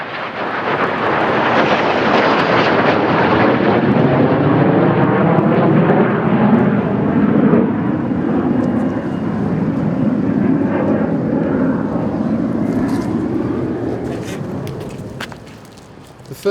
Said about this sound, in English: Two Royal Air Force Hawk jet trainers from RAF Valley in North Wales flew low